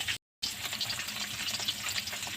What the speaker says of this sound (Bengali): মাছ দুটো আমি ভেজে নিচ্ছি